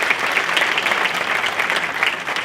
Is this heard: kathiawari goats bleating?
no